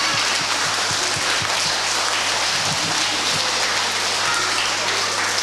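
An audience at a children's program claps loudly and continuously, a dense, even wash of many hands with no break.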